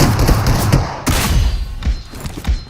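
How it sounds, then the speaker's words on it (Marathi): Rapid gunfire in a shooting video game, dense bursts of shots with thuds and booms, loud and continuous with brief gaps between volleys. "अरे याला मी 4 गोळ्या मारल्या संदेश"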